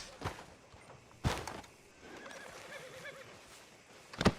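A horse whinnies in a few sharp bursts in Red Dead Redemption 2, with soft hoof clops and a low rustling background between the calls.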